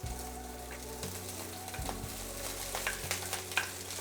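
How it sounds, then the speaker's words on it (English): Rice sizzles and fries in hot sesame oil in a wok over high heat, a steady close crackle with stirring and scraping sounds and a low hum underneath. "We're gonna heat a tablespoon of sesame oil and we're gonna let that come up to temperature over a high heat. And we're gonna start adding our rice."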